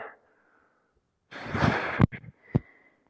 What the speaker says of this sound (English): notice I'm breathing heavy, but I'm keeping a rhythm with my breathing